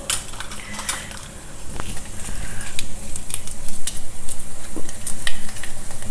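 Mustard seeds, methi seeds and channa dal sizzle in hot oil, a loud close crackle and spatter that builds and stays busy, with a few light metallic clinks of a utensil.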